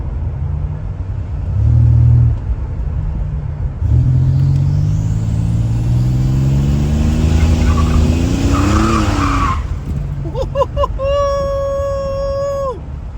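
A 1987 Buick Regal Limited turbo accelerates hard with a loud, close engine rumble that climbs in pitch, then its tires let out a sharp, sustained squeal near the end.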